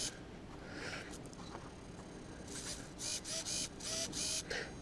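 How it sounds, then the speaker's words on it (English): A Hitec HS5055MG micro servo for a camera pitch gimbal, driven by a servo tester, gives faint brief whirring bursts, then a quick run of sharper buzzing movements near the end, close and alone. "put it on my servo tester here."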